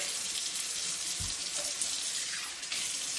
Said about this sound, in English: I'm just going to rinse them all off with rinse, set it to dry for next time.